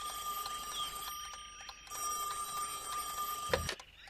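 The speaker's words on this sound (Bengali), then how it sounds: "এখন আবার কে ফোন করলো?" A telephone rings in a Bangla cartoon: a continuous electronic trilling ring, moderately loud and steady, cut off by a short bump near the end, with no talk over it.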